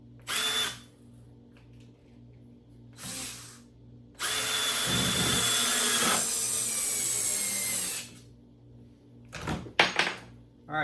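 A Ryobi USB lithium screwdriver drives a 3/4 inch screw into wood in short bursts, then a longer strained whir of about four seconds as it struggles, followed by a few quick knocks.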